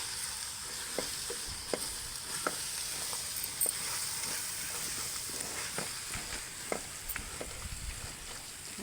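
Gongura and tomato curry in a pan with chilli powder being stirred in, a soft hiss of cooking under repeated scraping strokes of a spoon against the pan, moderately quiet and close.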